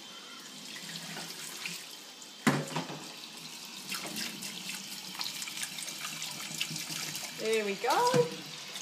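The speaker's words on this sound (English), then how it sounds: "you use some water just to make sure you're getting off all of that residue that's come off the buckwheat" Running water rinses buckwheat groats held in a strainer, a steady splashing wash that carries on through the clip, with a sharp clatter partway through and a short spoken phrase near the end.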